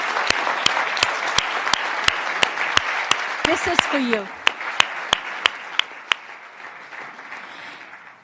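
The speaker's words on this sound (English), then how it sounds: "So I'd like all of you to give a big round of applause" Audience applause at a keynote address for a memorial lecture, a sustained crowd clapping with a few loud individual claps standing out, then fading; a voice speaks briefly partway through.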